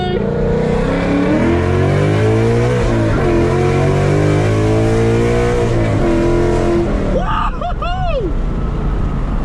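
Catless long-tube headers and a Corsa Extreme exhaust on a Mustang 5.0 V8 bellow through a loud, sustained revving pull, pitch climbing and dropping with gear changes, followed near the end by sharp rising and falling sweeps.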